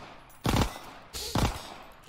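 Two short bursts of rapid Glock 18 automatic pistol fire in the Call of Duty: Vanguard and WW2 firing range, loud and close with a quiet gap between them.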